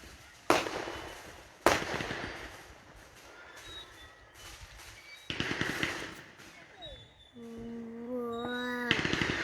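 Fourth of July fireworks go off in sharp, loud bangs at intervals, with crackling bursts and a rising whistle or squeal later on, heard outdoors at night.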